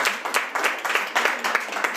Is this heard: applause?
yes